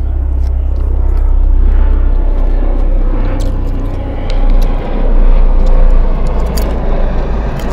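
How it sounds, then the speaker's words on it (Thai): Airplane passing overhead in a rural outdoor setting, a loud steady roaring rumble that fills the whole clip with broad jet noise and no talking. "เสียงเครื่องบินแล้วพี่น้อง"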